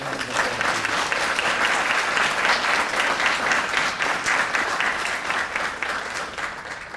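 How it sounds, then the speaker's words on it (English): A conference audience at a tribal education gathering gives a warm, sustained round of applause, many hands clapping steadily and loudly without a break. "Would you please give these persons a round of applause?"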